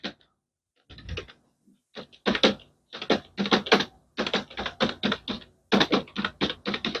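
Rapid clicking taps sound up close in quick bursts with short pauses as a name is typed out on a computer keyboard during a class lesson.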